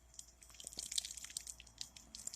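A tube of case sizing paste being shaken near the ear, the watery liquid inside sloshing and dripping in quick, faint irregular splashes.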